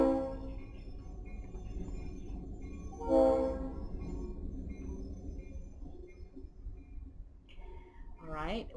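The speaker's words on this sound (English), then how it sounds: "we're just gonna let the train go by" A passing train sounds its horn once in a loud burst, followed by low rumbling of rail cars rolling by, with a voice talking faintly and another horn-like tone near the end.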